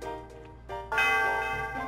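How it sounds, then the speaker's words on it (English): A bell is struck in the Pokemon Black video game, a bright ringing tone that swells after a short quieter passage and sustains to the end. "And he's hitting that bell."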